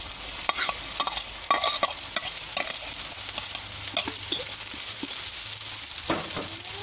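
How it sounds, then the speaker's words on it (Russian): Chopped onion sizzles in hot oil in a kazan over an open fire, a steady bright hiss broken by irregular scraping stirs and clinks of a spoon against the pot, close and fairly loud with no talk. "Теперь мы закладываем лук обжариваться."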